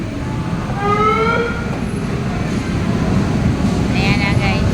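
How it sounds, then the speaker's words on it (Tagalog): A train pulls into a station with a loud, steady rumble of wheels on rails and squealing tones rising above it, while people talk over the noise. "may train na paparating"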